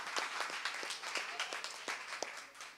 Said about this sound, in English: So applause for you guys again.